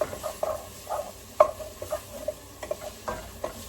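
A spoon scrapes and clinks as garlic is stirred in a soup pot, with a soft sizzle beneath; short irregular strokes sound close by, and no one speaks.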